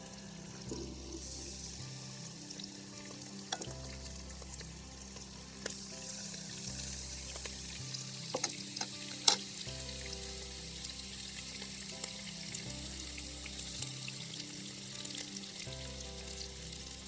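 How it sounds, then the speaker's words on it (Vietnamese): Pieces of beef rib frying in a little oil in a pan, a steady close sizzle throughout with occasional crackles and pops, no talking. "mình sẽ cho một chút dầu vô và sẽ chiên sơ những cái miếng bò này lên."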